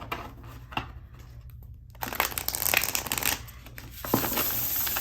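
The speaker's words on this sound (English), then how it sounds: "Give it one more good shuffle." Tarot cards being shuffled: soft riffling and flapping bursts, a brief pause, then a longer, louder stretch of shuffling close by.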